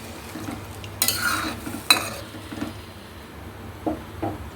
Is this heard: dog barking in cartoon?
no